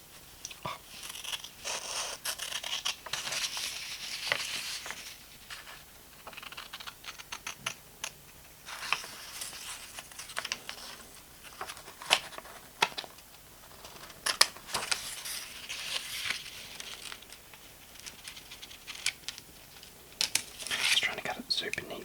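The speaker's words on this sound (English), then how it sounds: "you know when you cut with the paper and then the scissors glide" Scissors cutting paper neatly for a journal at close range, a soft quiet stream of snips, crisp rustles and tapping paper sounds, with a voice speaking faintly in places.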